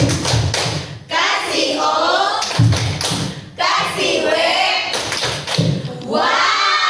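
A group performs the 'tepuk uang' clapping routine in a classroom, loud, rhythmic claps and thuds in short bursts alternating with chanted voices, close and energetic.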